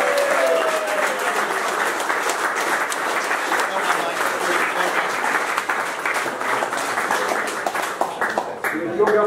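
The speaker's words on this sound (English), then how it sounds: "Have a massive round of applause, please, for the new Daiwa Pole Fishing Masters champion" A crowd at the Daiwa Pole Fishing Masters applauds the new champion outdoors, loud sustained clapping throughout, with a voice speaking over it near the end.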